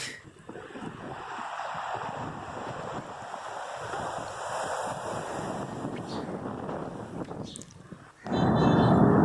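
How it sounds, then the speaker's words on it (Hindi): Sea waves on the shore at Karachi, heard as a continuous broad wash of surf mixed with strong wind buffeting the microphone, rising louder near the end, no talking. "ये तो समुंदर की लहरें हैं।"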